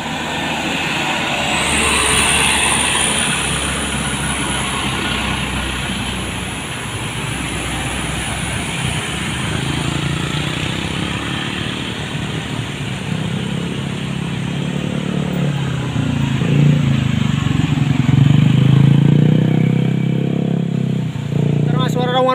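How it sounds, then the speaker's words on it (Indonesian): A heavy sand-laden truck engine roars continuously from close by, a deep low rumble that swells louder toward the end, with a voice talking over it. "Rawan mesin sangat keras sekali"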